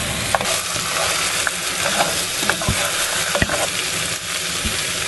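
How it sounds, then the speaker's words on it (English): Korean braised beef short ribs stirred in a pan over high heat as the juices cook off, giving a steady close sizzle with scattered scraping clicks of the spoon against the pot. "Turn it up and keep stirring until the all juice is evaporated and turn really shiny."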